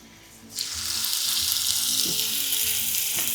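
A loud, steady sizzle bursts in half a second in and keeps crackling and hissing as steak sears in a hot pan, with no voices.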